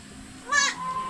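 A single high, wavering bleat from a young goat kid rings out briefly and close over a quiet outdoor background.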